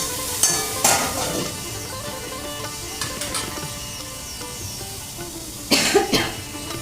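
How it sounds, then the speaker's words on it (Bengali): Pointed gourd fries in a covered pan over a low gas flame, a soft continuous sizzle with a few sharp nearby coughs and a brief clatter breaking through. "পটলটা ভাজতে দিয়ে আমি এবার একটু চাপা দিয়ে রেখে দিলাম আর গ্যাসের ফ্লেমটা কমিয়ে দিলাম।"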